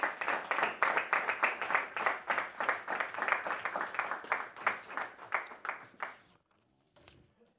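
Guests at a handball awards ceremony for the Olís and Grill66 leagues clap in a steady, fairly rhythmic round of applause that stops abruptly, leaving near silence.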